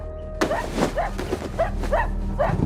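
A dog named Lucky barks repeatedly in a rural Philippine home, about five sharp yelping barks spaced evenly over a low steady hum, close and fairly loud.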